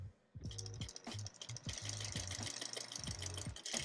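Sewing machine stitching down an elastic pant seam, a rapid mechanical chatter of needle strokes in short bursts and longer runs, loud and close with brief pauses between runs.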